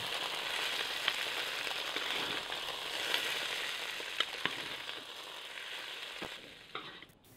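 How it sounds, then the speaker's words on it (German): Rice noodles, egg and pak choi stir-frying for pad see ew, a steady broadband sizzle with scattered clicks and scrapes of stirring throughout, no voices, ending in a sharper clatter. "Jetzt braucht man unter Rühren nur noch so lange weiter braten, bis Nudeln, Ei und Gemüse vermischt sind und die Nudeln heiß sind."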